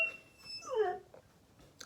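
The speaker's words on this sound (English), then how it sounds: "If you can hear that, by the way, that's my dog." A pet dog whimpers indoors, a brief rising and falling whine in the background, faint and alone.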